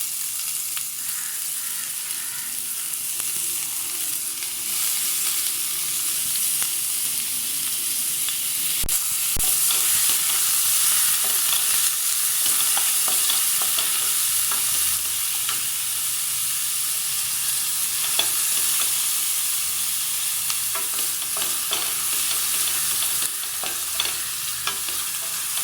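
Onions fry in hot oil for a mushroom pepper masala, giving a steady, bright sizzle and hiss that continues for the whole stretch, with occasional faint stirring scrapes and no talking.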